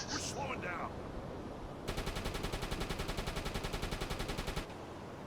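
U-boat deck gun firing at a ship in a 1941 Atlantic convoy attack game, a steady rhythmic string of about twenty evenly spaced shots lasting under three seconds, close and clear after a brief voice.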